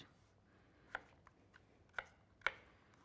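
A knife taps a cutting board a few times at an uneven pace as potatoes are chopped small, quiet, close chops in an otherwise still room.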